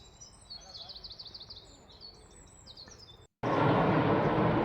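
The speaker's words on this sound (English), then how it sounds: "just panning around listening to all the bird songs" Birds sing outdoors in spring, with a run of repeated high chirping phrases over steady background noise for about three seconds; after a brief gap, a loud broadband roar takes over, likely a low-flying plane.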